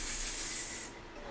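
A pan on a stove with the heat turned up sizzles with a bright, steady hiss up close. The hiss fades slightly toward the end.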